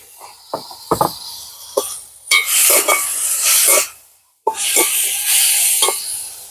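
Tomato, onion, chili, cabbage and carrot being stir-fried for kothu dosa: a few sharp utensil clanks, then bursts of loud, hissing sizzle as the mix is tossed, broken by a brief pause.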